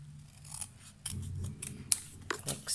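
Scissors cutting paper by hand for a handmade bookmark; close, crisp snips and rustling slices come in a loose, irregular series with no talk.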